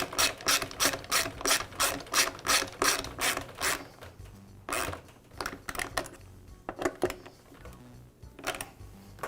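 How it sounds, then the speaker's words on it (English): Rapid ratcheting clicks from a ratchet driving a screw on a Shindaiwa backpack blower's retainer strap during repair, a fast even burst of loud close pawl clicks, then a pause and a few shorter, sparser runs. "And then I'll install the second screw."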